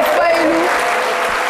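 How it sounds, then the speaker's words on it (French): A studio audience applauds a birthday celebration on a French-language TV program, a loud, continuous burst of clapping with an overlapping voice and a brief tonal sound near the start. "Je voudrais qu'on lui fasse un triomphe d'applaudissements."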